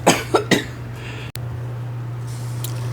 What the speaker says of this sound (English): had a little coughing spell